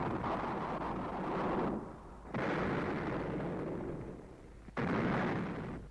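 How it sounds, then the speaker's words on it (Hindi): Booming cannon fire in an animated battle scene: heavy, rumbling blasts in sustained bursts separated by brief drops, dense and roaring, with no voices. "दोनों ओर से तोपें चलने लगी।"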